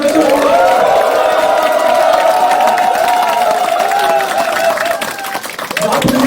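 A political lecture audience claps and cheers for a guest, a loud sustained crowd roar that swells and then eases off toward the end.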